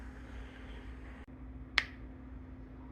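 A canning jar lid pops once as it seals on a jar of freshly canned plums cooling on a counter, a single sharp near click against quiet room noise.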